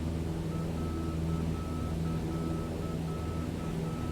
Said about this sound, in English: So you hear the beeping? See this light flashing?